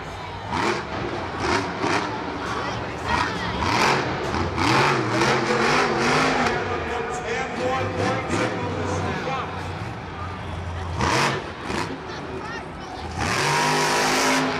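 Monster truck engine fitted with MagnaFlow exhaust collectors roars and revs loudly at a Monster Jam freestyle show at MetLife Stadium, with crowd noise and an announcer talking over it throughout.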